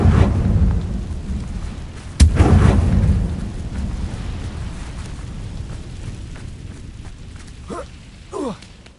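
Confringo fire spell explosion in Hogwarts Legacy, a sharp loud burst with a rumbling blast tail that slowly fades, followed later by a couple of fainter whooshing effects.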